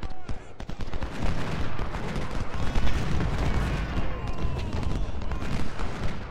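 Musket volleys and artillery fire in the Ultimate General: Civil War game, dense continuous crackling shots and booms in rapid irregular bursts, loud and unbroken throughout.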